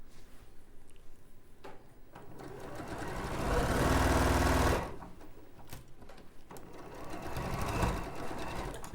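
A sewing machine stitches cushion pieces together, running in short bursts and one longer steady whirring run in the middle, close and fairly quiet.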